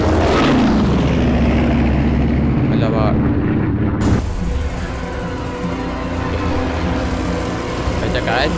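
A fighter aircraft roars past in Battlefield V, a loud, dense engine rumble that cuts off sharply then carries on as a steady drone, with a voice talking over parts of it.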